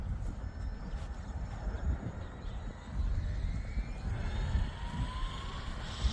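An RC model airplane, a Flywing H-Ace scale helicopter-style flyer, whines and buzzes steadily through its takeoff run outdoors, the motor noise holding continuous and moderately loud against wind rumble, with a slight swell partway through.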